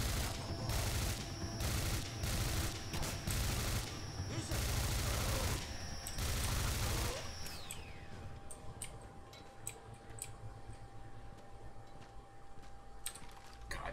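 A weapon firing in the sci-fi shooter game Singularity: a sustained, loud stream of rapid shots for about seven seconds, then it stops and only faint scattered clicks and quieter ambience remain.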